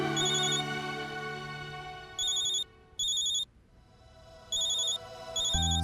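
A phone ringtone plays for an incoming call, a bright repeating electronic melody in bursts separated by short pauses, fairly close and alone, ending with a low thud.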